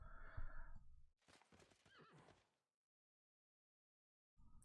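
A horse unit in the strategy game Civilization 6 gives a loud neigh and whinny with a few clip-clop sounds, then falls silent before a brief burst of noise at the end.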